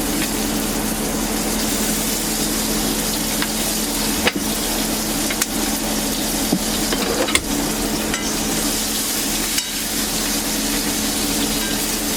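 Food fries in olive oil in a pan that has run a little too hot and smoky, making a continuous loud sizzle broken by a few sharp clicks and scrapes, with no voices.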